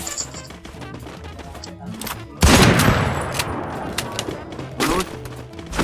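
Gunfire in Free Fire starts with scattered shots, then erupts into a loud, sustained close barrage of overlapping bursts with explosive crashes, while players talk over the action.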